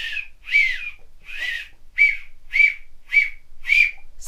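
A series of seven short, bright whistles blown through an acorn cap held between the thumbs, mimicking a marmot's call. The chirps come in a steady, evenly spaced rhythm, close and clear with no other sound.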